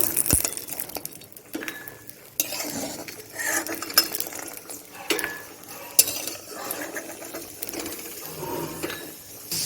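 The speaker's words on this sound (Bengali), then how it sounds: "আমি বড়িগুলো লাল লাল করে ভেজে তুলে নেব" Sun-dried lentil dumplings (bori) fry in a pan, a soft sizzle under frequent close clatter and scraping of a utensil against the metal, in uneven bursts.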